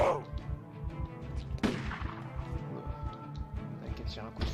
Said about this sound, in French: les coups de feu comme ça attire vachement les zombies